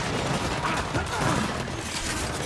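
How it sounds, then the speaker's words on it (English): A sniper rifle shot amid rapid gunfire in the video game Gears 5, with dense bursts of shooting layered over a busy battle mix. "That was a sniper."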